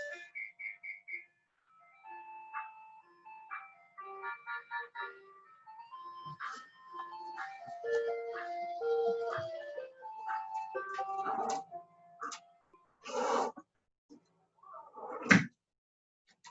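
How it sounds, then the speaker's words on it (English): An ice cream truck passes outside, playing its chiming melody as a clear sequence of tinny tones that grows fuller before breaking into a few louder bursts near the end, with no talking. "There's an ice cream truck passing, so hopefully you can hear me."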